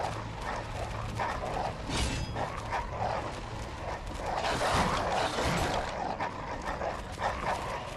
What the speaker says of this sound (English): I'm kinda just sniping away at a dog.